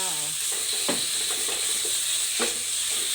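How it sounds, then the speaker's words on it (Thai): Pork and garlic stir-fry for a broccoli dish, with a soft, steady sizzle in the pan and a few distinct scraping stirs on top. "ผัดกระเทียมให้หอม กระเทียมหอมแล้วใส่หมูตามลงไปเลยค่ะ"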